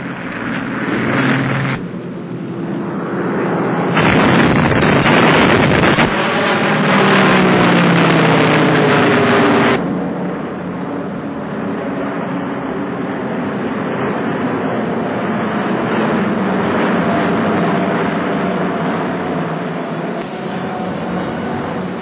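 Douglas Boston (Havoc) bomber engines droning as the aircraft flies, a loud sustained roar that swells in the middle, with a rising pitch sweep, then settles into a steady hum.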